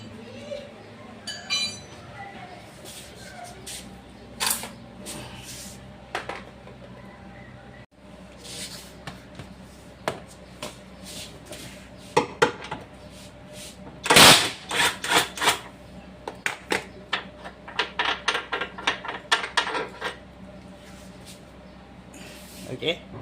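Size 17 spanner working a large lower arm bush bolt under a car, giving scattered metallic clinks and ratcheting taps, with a loud clatter burst midway and then a quicker run of close clicks, under intermittent talk.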